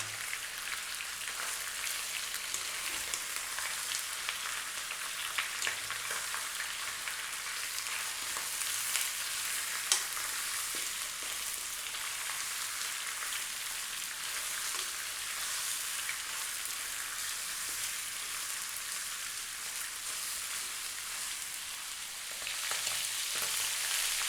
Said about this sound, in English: we're going to stir fry this for about 6 to 7 minutes, staying on a medium heat